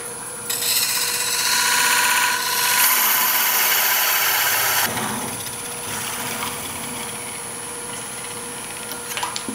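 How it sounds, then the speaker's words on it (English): A wood lathe spins a castle box as a tool parts off the excess wood, producing a loud, harsh scraping rasp for a few seconds before easing into a steadier, lower whirring. "I'm going to first part this off right here because I don't want that wood on there"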